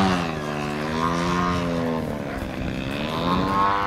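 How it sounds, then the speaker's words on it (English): A model aircraft's propeller engine whines steadily during a low knife-edge pass down a runway, its pitch sliding down and then rising again as it passes close by. "Another low knife edge pass down the runway."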